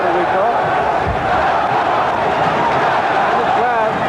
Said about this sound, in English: And the crowd chanting John as they did in round 6, waving the flag of Puerto Rico.